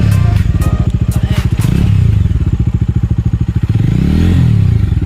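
A Bajaj Dominar 250 BS6 motorcycle engine idles and revs close by, a steady throbbing beat that swells in a couple of throttle blips before settling back, with no talk over it.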